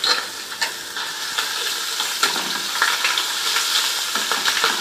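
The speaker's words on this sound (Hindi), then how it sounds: "अब इन सबको अच्छी तरीके से 2 मिनट तक हम फ्राई कर लेते हैं।" Ginger garlic paste with black pepper, cinnamon and other whole spices fries in a hot pan, a steady close sizzle with occasional stirring scrapes and no talk.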